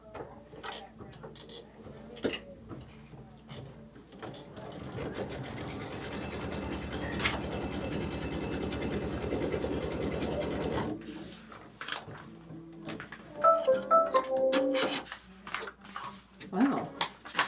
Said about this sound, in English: And we'll stitch the tack down.